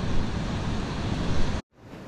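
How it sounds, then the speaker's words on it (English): Strong wind blowing at a beach, a loud, steady roar of buffeting gusts that stops abruptly near the end, leaving only faint background noise. "Wind has definitely kicked up"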